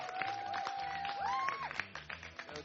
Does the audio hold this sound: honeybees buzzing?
no